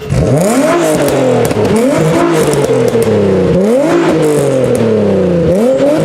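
A loud Nissan 350Z engine with test pipes and a Jones resonator revs hard several times in a row, each climb in pitch ending in sharp crackles and pops from the exhaust, with no talking.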